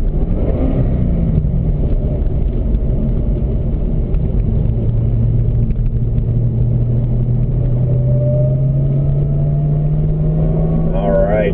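A Corvette ZR1 brakes and downshifts on a racetrack, a loud, steady low engine drone with shifting pitch sweeps as the revs fall and rise, recorded from inside the car with heavy rumble throughout.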